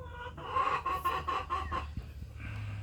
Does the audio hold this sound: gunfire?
no